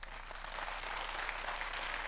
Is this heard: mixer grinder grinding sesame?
no